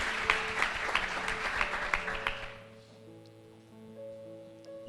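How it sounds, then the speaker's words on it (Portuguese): A church congregation at Igreja Semente de Fogo in Botafogo applauds warmly for a couple of seconds, then the clapping quickly fades out, leaving soft sustained keyboard tones in the room. "Uma salva de palmas para ela."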